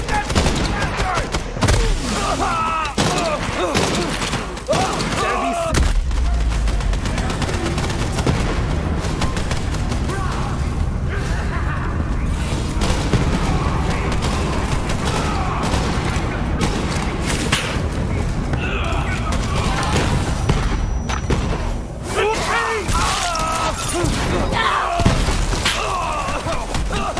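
Borderlands 3 gunfire rattles almost nonstop in loud rapid bursts, mixed with thuds, shattering impacts and booms, while a player shouts now and then over the chaos.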